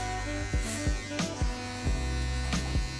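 Electric hair clippers running steadily during a clipper-over-comb soft line fade haircut, a continuous close buzz with a few short bumps as the blade passes through hair over the comb.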